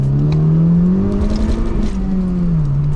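A Honda Civic FK2 Type R accelerates hard along a winding road, its engine note rising and falling steadily as it pulls through the revs, loud and close from inside the car, with no talking.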